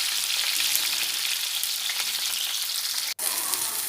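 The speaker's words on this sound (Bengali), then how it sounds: "তারপর আমি এটাকে ভেজে নেব।" Boiled, cut pieces fry in a pan with a steady, bright sizzle, an even hiss throughout with a brief break near the end.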